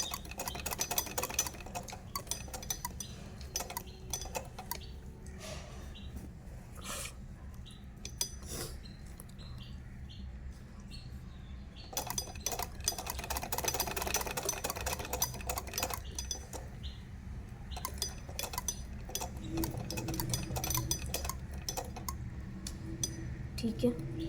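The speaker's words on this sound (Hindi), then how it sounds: "बिल्कुल फिक्स सिलाई करते हुए जाना है।" A sewing machine stitches fabric during a beginner tailoring lesson, its rapid mechanical chatter running steadily in short and longer bursts with clicks and small handling knocks, close and fairly loud throughout.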